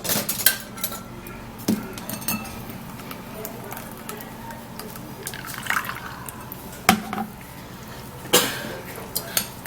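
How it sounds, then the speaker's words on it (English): Cucumber juice strained through a sieve into a bowl, with liquid dripping and pouring alongside light clinks of utensils and kitchenware and a steady background hum. "I would love to sieve it into this bowl."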